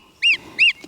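Two loud, nasal honks from a goose at a pheasantry, close by and evenly spaced a fraction of a second apart.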